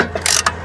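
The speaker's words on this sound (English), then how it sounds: "our caliper compressor tool and we compress the caliper" A caliper compressor tool squeezes a brake caliper on a 2006 Dodge Grand Caravan during a brake job, giving a short burst of close ratcheting clicks with a second brief click just after, over a steady low hum.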